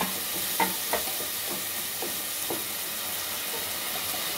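Tomatoes frying with onions in a pan for dhaba-style paneer butter masala, giving a steady close sizzle and hiss with a few soft stirring clinks early on, and no talk.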